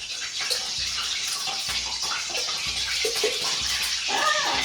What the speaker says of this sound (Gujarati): આ તમે વઘારી શકો ને તેલ તડતડ અવાજ બની રહ્યો છે